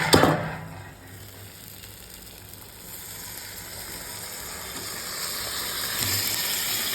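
Marinated chicken tipped into a pan of frying spice paste, with a clatter at the start, a quieter moment, then a hissing sizzle that builds steadily and stays up to the end.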